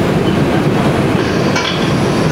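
A subway train rumbles loudly and continuously close by, with a roaring wheel noise and a brief metallic squeal near the end.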